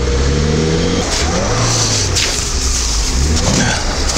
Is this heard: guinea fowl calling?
no